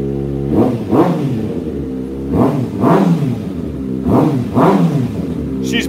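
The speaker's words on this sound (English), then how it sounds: "let's give her some revs." A motorcycle with an aftermarket exhaust is revved in three paired blips, each burst climbing sharply and dropping back to a loud, steady idle, close and without talk.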